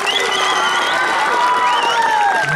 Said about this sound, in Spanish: Aplausos para la chiquitita.